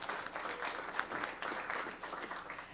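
A board meeting audience applauds a colleague with a steady round of clapping, moderately close and fairly even, with no speech on top.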